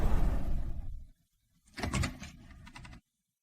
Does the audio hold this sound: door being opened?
yes